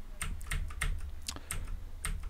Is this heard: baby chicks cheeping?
no